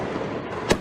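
A firework bursts at night with a single sharp crack near the end, following a stretch of broad rumbling noise from other distant explosions.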